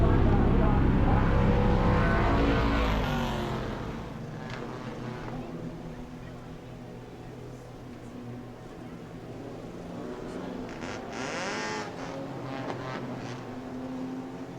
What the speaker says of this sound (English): Daytona Dodge American Auto pace car pulling away from the field.